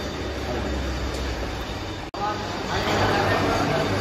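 A double-side waste wire stripping machine for filter wire runs with a loud, continuous mechanical rumble and rattle that cuts out briefly midway, then resumes slightly louder.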